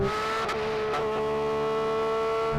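Porsche GT3 with its 4-litre GT engine howling at high revs, a steady tonal engine scream held loud and close with brief shifts in pitch around gear changes, no talk over it.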